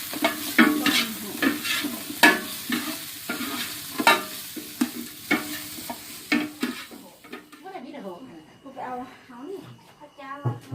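Ingredients stir-fried in a pan, with frequent spatula clacks and scrapes over a bright sizzle that thins out toward the end, while a person talks over it throughout.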